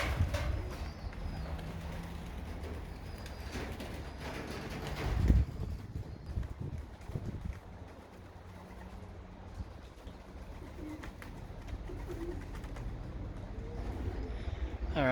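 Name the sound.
racing pigeons cooing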